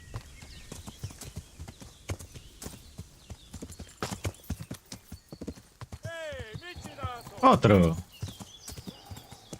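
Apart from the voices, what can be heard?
horse hooves clip-clopping in a video game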